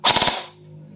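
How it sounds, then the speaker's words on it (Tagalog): Golden Eagle GE FE 5996 airsoft rifle firing a short full-auto burst, a loud rapid rattle of several shots at close range that stops abruptly and leaves a faint hum. "Tapos yung full auto."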